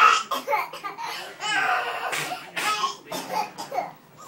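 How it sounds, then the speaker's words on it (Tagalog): A child coughs close by in a quick series of short, rough bursts, with brief pauses between them and no other sounds. "pinaubo-ubo pa."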